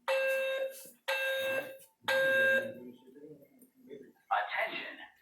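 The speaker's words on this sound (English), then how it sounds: "Fire alarm is activated." A building fire alarm sounds three loud, steady electronic tones in a repeating pattern, each about a second long with brief gaps, followed by quieter background noise and a burst of broadband sound near the end.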